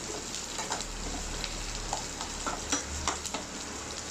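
Onions and green chilies sautéing in a pan, a soft steady sizzle with occasional light spatula scrapes, fairly faint and without talk.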